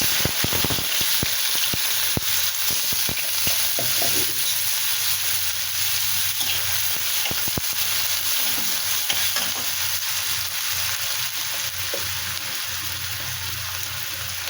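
Whole cumin and onion frying in a pan with two chillies for a prawn and brinjal dish, a steady loud sizzle that fills the whole stretch, broken by a few sharp scrapes and clatters near the start and no talking.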